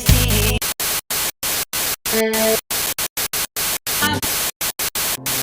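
Harsh radio static and white-noise interference hiss loudly, chopped into bursts by repeated sharp dropouts, with faint tonal whistles surfacing briefly.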